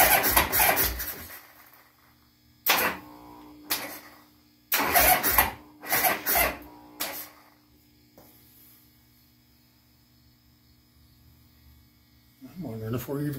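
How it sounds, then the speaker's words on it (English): A 1975 Harley-Davidson Sportster's starter motor cranks in several short, harsh grinding bursts separated by pauses, the engine not catching, with a faint steady hum in the background. "that starter sounds horrible"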